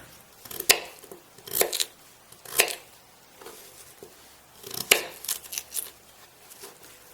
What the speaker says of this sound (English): After you peel your potatoes, you want to cut them into cubes.